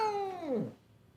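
A cat gives a single drawn-out meow during a vet visit, falling in pitch toward the end, close and clear with no talk over it.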